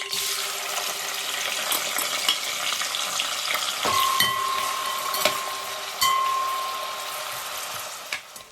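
Onions sizzle and crackle steadily in hot oil in a pan, with occasional sharper pops and clinks of a utensil stirring, close and continuous throughout.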